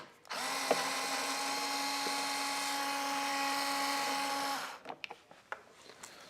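Power tool spinning out the bolt beneath a Goldstrike Panovista extended convex towing mirror; a steady high-pitched whine for about four seconds, close and alone, followed by light handling clicks.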